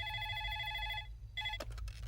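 A telephone rings indoors in a short electronic burst, a steady trilling ring that stops, then starts again briefly before a clatter as it is picked up.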